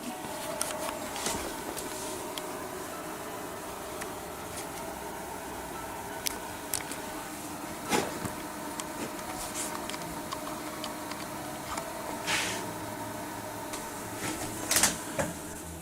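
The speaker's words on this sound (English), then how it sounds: "Let's just see that the stepper motor turns 1 revolution." A Y-axis stepper motor turns on a DIY CNC machine, giving faint, fast ticking and whirring under a low background hum, with a few sharper clicks scattered throughout.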